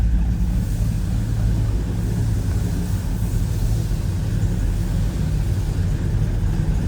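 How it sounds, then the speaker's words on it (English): A steady, deep idle rumble from the small-block V8 of a 1968 Chevrolet Chevelle Malibu, continuous at a constant loud level, with no voices present. "A little rumble coming out of this small block Chev."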